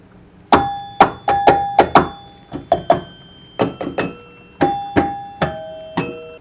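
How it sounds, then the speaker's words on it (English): The three-chime unit of an old Toledo electromechanical pinball machine rings about fifteen loud, close bell strikes in quick irregular bursts, each a sharp clang with a ringing decay, no talking. "it's a 3-chime system."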